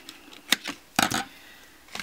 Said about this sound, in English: So just covering these flaps in tape.